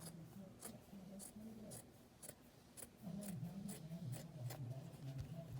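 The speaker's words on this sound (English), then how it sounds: "I'm gonna cut this like this. I'm gonna cut all the way down." Scissors cut paper for papel picado, a faint run of soft snips and rustles at a quiet, close distance.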